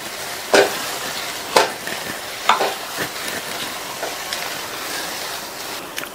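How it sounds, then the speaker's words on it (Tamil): A spoon stirs idli stuffing with coriander leaves in a pan, giving a few sharp scraping clinks over a soft, steady sizzle. "மறுபடியும் ஒரு தடவை நல்லா கலந்து விட்டுருங்க"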